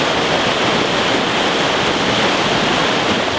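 River current rushing and churning with waves on the Elk River, a dense, loud, continuous roar of water with no voices over it.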